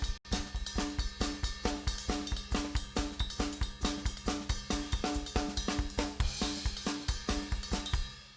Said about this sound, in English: gospel drum patterns kind of sound like this.